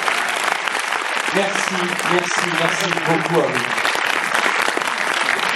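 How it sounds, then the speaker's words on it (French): A film festival audience applauds at a screening, dense continuous clapping filling the room while someone speaks over it. "applaudissez-vous une dernière fois"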